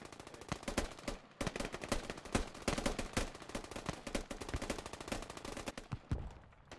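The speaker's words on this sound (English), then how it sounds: "I heard multiple shots." Rapid gunfire from the military shooter game Squad crackles throughout, dense bursts of automatic fire mixed with single shots at varying distances, loud and nearly continuous.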